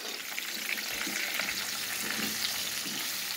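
Onion frying in a pan for homemade mole, a continuous close sizzle with faint stirring scrapes mixed in throughout.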